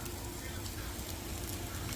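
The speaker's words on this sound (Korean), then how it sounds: "지글지글지글지글 잘 되고 있습니다" A zucchini and egg pancake fries in an oiled pan, giving a soft, steady crackling sizzle that stays faint and even from start to finish.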